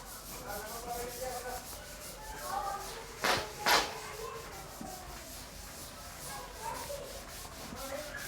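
Objects are rubbed together to build a static charge in a physics class demonstration, making a close, soft, scratchy friction that continues steadily. Two sharper scrapes stand out in the middle, and a voice speaks at times.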